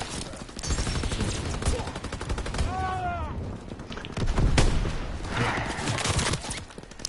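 Gunfire in Call of Duty WWII, with bursts of shots and explosions tumbling over one another in a dense, continuous battle din, a brief whistling tone partway through.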